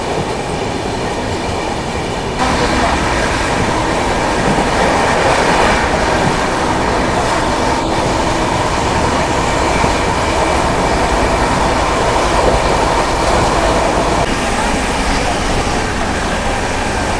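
Howrah-Titlagarh Ispat Express rolling along the rails, a loud continuous roar with rhythmic clatter of wheels and carriages and occasional squeal, heard from inside the moving train throughout.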